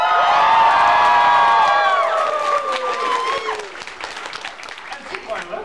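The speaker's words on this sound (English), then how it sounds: "Applause!" Convention panel audience at MomoCon 2014 bursts into loud applause with whoops and cheering, strongest at first and then thinning into scattered clapping with voices by the end.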